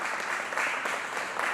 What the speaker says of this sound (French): je vais vous demander de bien vouloir applaudir.